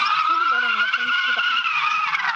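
A Lamborghini in a video game skids with a continuous, loud, high tire squeal that holds steady throughout, with faint low sounds beneath.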